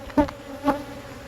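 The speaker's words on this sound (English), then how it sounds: "A lot of bees going in and putting their head in where the honey is." Honey bees at a hive frame with capped cells give two brief, close buzzing passes over a quiet background.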